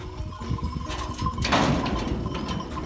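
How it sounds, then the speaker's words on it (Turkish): Door swung open at a rural village pen with sheep nearby, a short scraping slide near and moderately loud, amid low outdoor background sounds. "Kapıyı açayım."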